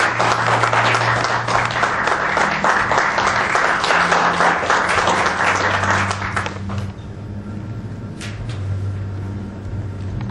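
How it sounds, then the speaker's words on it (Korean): A lecture audience at an economic policy talk breaks into loud, sustained applause to welcome a speaker, the clapping dense for about seven seconds before fading into quiet room noise. "큰 박수로 맞이해 주시기 바랍니다."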